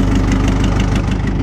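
Minneapolis Moline tractor engine at a threshing show, running at a steady idle with a loud, close, continuous low rumble and throb.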